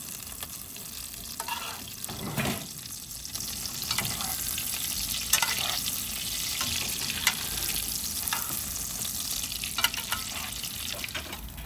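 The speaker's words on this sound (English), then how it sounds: "I transferred it to the butter and herb bath. Then I spooned the luxurious mixture over the ribeye." A butter and herb bath sizzles steadily as the mixture is spooned over a ribeye steak, with intermittent clinks and liquid splashes from the spoon close by.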